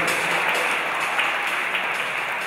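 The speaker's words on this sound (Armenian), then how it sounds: "Բարեկամներ, եկեք ծափարենք LC-ն" An audience at a fashion show applauds the designers, a steady, full wash of many hands clapping together that holds evenly throughout with no gaps.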